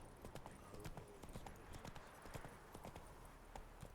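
Roach, a horse in The Witcher 3, gallops with a quick, steady clip-clop of hooves at moderate distance, over a low rumbling game background.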